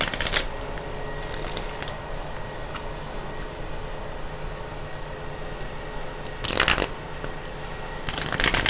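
Tarot cards are shuffled by hand close up, with a steady soft riffling and sliding that runs throughout, broken by a few sharper bursts of cards snapping together near the end.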